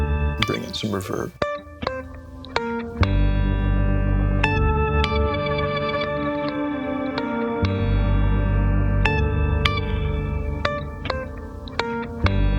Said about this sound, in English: Let's bring in some reverb.